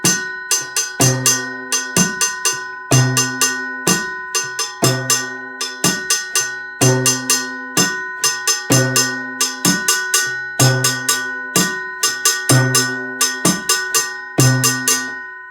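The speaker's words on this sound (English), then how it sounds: "besides playing this Clave pattern with the Clave" A 2-3 clave pattern struck on clave, its sharp wooden clicks repeating steadily over sustained tonal accompaniment with a low recurring bass note, loud and close with no talking.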